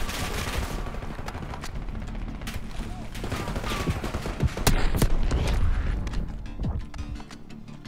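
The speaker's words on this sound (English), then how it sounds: "my gunshots are super loud right now" Loud, rapid gunfire from the Black Ops 6 campaign on PC, with bursts of automatic shots and sharp cracks over a dense roar of combat, building into a heavy volley mid-way.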